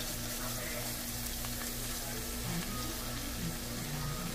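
Flour browning in a frying pan for fried fish, shrimp and grits, a faint, even sizzle running steadily throughout with a low hum underneath and no talking.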